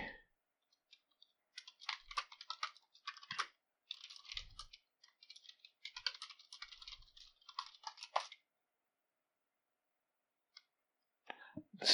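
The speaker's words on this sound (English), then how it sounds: "I'm typing that in the wrong place." Typing on a computer keyboard during a game, soft clicking keystrokes in irregular bursts with short pauses, close and quiet, with no talking over it.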